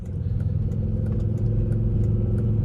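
A 2.5-liter Hyundai car engine idles with a coarse, growly rumble, steady and close, with a slight rise in intensity partway through.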